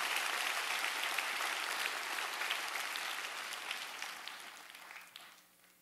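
A church congregation at a Sunday service applauds steadily for several seconds, the clapping dense and moderately distant before tapering off near the end.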